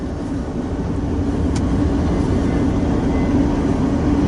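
Freight train of new Norfolk Southern boxcars rolling past, a steady, continuous low rumble and rattle holding at an even level throughout, with no voices.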